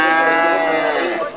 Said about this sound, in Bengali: ফ্রিজিয়ান আর শাহিয়াল মিক্সার করা গরু।